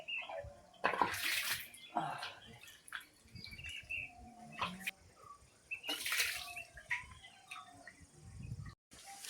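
Water poured over a Ganpati idol at a temple to bathe it, with short splashing gushes at close range and birds chirping faintly in the background.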